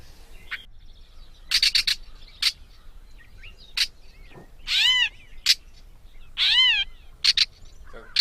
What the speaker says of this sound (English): That's a catbird.